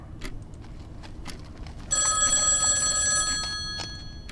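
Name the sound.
telephone bell ringing in Dear Devere video game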